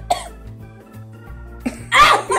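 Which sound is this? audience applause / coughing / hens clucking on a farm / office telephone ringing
coughing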